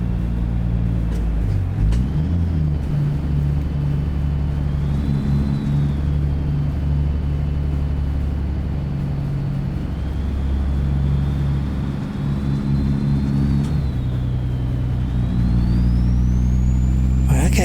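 A heavy truck engine in American Truck Simulator revs and pulls up through the gears, a steady loud low rumble with rising pitch across the run, driving a Ruda Classic XL double-ender with an empty trailer.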